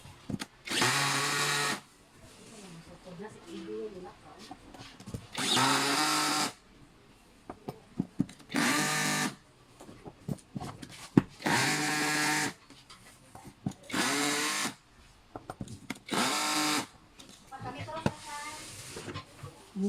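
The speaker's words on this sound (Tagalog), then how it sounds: "you have to tighten the screw." Power drill driving screws while assembling a PVC executive office chair, sounding in six or seven loud bursts of a couple of seconds each, separated by quieter gaps with handling clatter and occasional voices.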